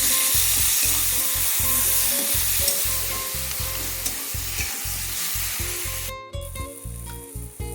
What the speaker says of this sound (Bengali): এবার দিয়ে দেবো সেদ্ধ করে রাখা কচু ডাল। ভালো করে নাড়াচাড়া করে নেব।